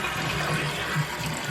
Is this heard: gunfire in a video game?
no